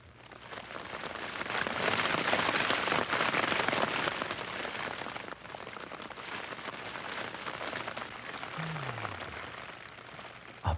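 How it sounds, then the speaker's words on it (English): An early morning rain shower falls steadily outdoors in turkey hunting country, a dense continuous patter on leaves and ground that swells and eases slightly, with one low swooping tone near the end. "an early morning rain shower"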